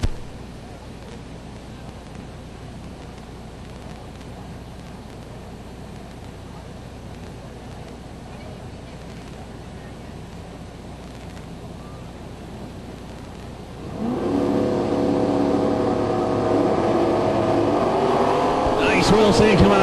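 A Corvette and a 1970 Chevelle with a 615 cubic inch engine launch at a drag race, first a long stretch of low crowd and ambient noise, then a sudden loud roar of engines that builds and stays strong to the end.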